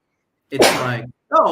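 A single sharp sneeze bursts out close to the microphone, followed a moment later by a person speaking.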